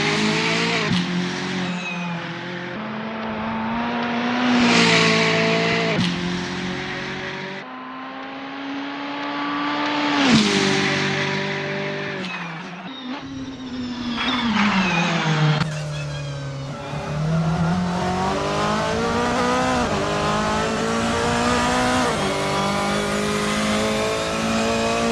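A VW Scirocco Silhouette racing car in Assetto Corsa revs hard through repeated rising and falling gear changes, loud and close, with occasional tire squeal as it accelerates and brakes.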